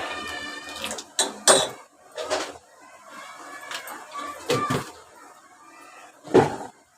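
A pot of black-eyed peas curry being stirred, with a spoon knocking against the pot in several distinct clanks spread unevenly through a quiet kitchen.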